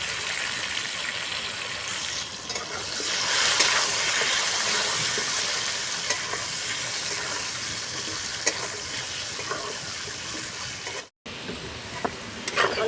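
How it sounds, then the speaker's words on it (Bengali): Turmeric-coated potatoes fry in hot oil in a pan for a Bengali jackfruit curry, a steady hissing sizzle with occasional light pops and a short gap near the end, no voices. "তেল গরম হয়ে গেছে আলুটা ভেজে নিচ্ছি"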